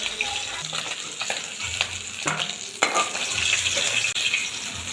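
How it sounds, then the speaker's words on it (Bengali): Fish heads fry in oil and are lifted out of the pan, a steady close sizzle punctuated by clinks and scrapes of a utensil against the pan, no voices. "মাথাগুলো ভাজা হয়ে গিয়েছে এবার এগুলোকে আমি আস্তে করে তুলে নেব"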